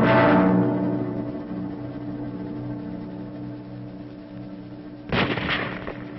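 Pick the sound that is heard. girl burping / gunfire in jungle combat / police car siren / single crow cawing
gunfire in jungle combat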